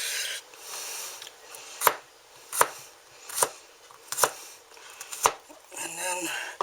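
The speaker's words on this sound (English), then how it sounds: "Julienne, as best I can, with this little gimmick." Fresh Mennonite-grown vegetables julienned with a small handheld gadget, giving a series of sharp scraping strokes at an uneven steady pace, close and fairly loud, over a faint background hiss.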